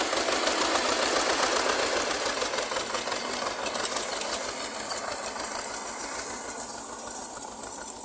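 Homemade tractor built on a T-25 base, raking hay: a loud, continuous rattling diesel engine running at steady revs close by, with mechanical clatter throughout.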